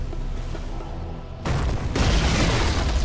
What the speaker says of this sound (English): Radiant's middle tower is under attack.